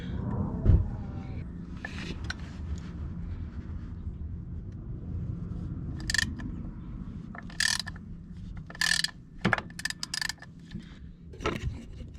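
Mechanical work on the clutch of a 2020 Harley-Davidson Low Rider S: low rumbling handling noise punctuated by several sharp metallic clicks and taps from tools on the bike, close by, without speech.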